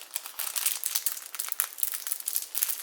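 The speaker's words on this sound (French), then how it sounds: "Désolée pour le bruit de sachet." Plastic wrapper crinkling close up while a blue straw is pulled from a bag, a steady run of sharp rustles and crackles with no talking.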